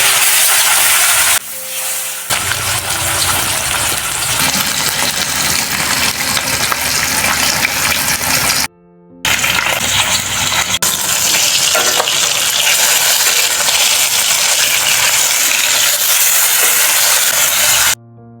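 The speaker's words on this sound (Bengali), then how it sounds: "মাছ কিন্তু এখানে খুব বেশি কড়া করে ভাজবো না, বরং ভাজাটাকে লাইট রাখতে হবে" Rui fish frying in hot mustard oil in a pan: loud, dense sizzling and hissing close up, with brief interruptions, then the steady spatter resumes, no talking.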